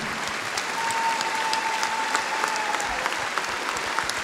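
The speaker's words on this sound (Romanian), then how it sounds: "vreau aplauze pentru toți invitații" A packed concert hall audience at a folk music concert applauds in a continuous, loud roar of clapping with scattered sharper claps standing out near the listener.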